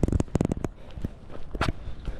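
Footsteps on a night hike near Lake Garda, Italy, a quick run of close, crisp steps followed by a few scattered footfalls, loud and alone with no talk.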